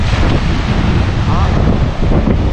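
Big sea waves crash on a rocky beach at Cổ Thạch near Phan Thiết, a loud, close, continuous surging roar mixed with heavy wind buffeting the microphone.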